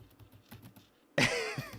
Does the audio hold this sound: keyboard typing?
yes